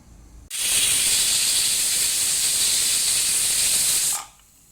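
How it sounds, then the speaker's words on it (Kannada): A pressure cooker of chickpeas and carrots vents steam through its whistle: a loud, steady, close hiss that starts abruptly, holds for nearly four seconds, then cuts off. "ಈಗ ಐದು ವಿಸಿಲ್ ಆಯಿತು"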